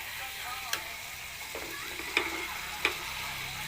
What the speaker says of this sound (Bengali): মশলাটাকে সুন্দর করে মাংসের সাথে নেড়ে চড়ে মিশিয়ে নেব।